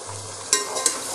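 Yogurt sizzles in a pot of mutton yakhni pulao over medium flame, a steady close frying hiss with two brief sharper scrapes of stirring, alone with no talking.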